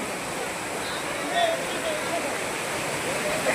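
Steady, loud rushing of falling water at Kurudkote waterfall in Deogarh, Odisha, a continuous broadband roar with no breaks, heard close by.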